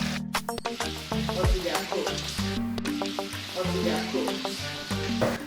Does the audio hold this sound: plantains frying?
yes